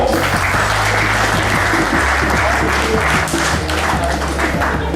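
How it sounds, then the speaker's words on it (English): Loud, sustained applause from a sizable crowd, dense clapping filling the whole stretch without letting up. "How about a nice warm round of applause for all of these fine people?"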